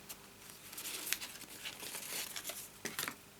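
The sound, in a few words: folding cardstock belly band around a box card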